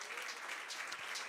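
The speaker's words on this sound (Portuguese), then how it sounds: "Aplauda o Senhor." A church congregation applauding during a sermon, a short, fairly faint burst of clapping from many hands at a distance.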